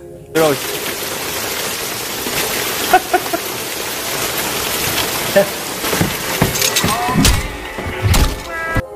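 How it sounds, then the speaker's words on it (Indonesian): Rain pouring in a film scene, a dense continuous hiss of falling water with scattered louder thumps and impacts toward the end. "Karena cuaca yang pada saat itu turun hujan"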